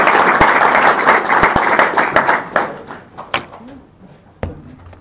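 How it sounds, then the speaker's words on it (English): Audience at a Python meetup applauding after a talk, a full burst of clapping with a few sharp loud claps that thins out and tapers away over several seconds. "Another round of applause."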